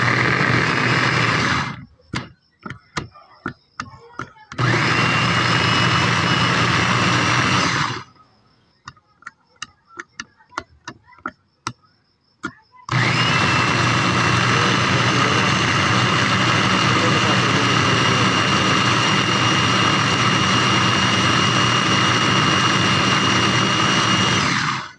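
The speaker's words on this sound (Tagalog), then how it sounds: "So try natin i-blend." A blender motor whirs loudly and steadily blending guava juice, with brief stops and rapid clicking in between, then runs on continuously for a long stretch.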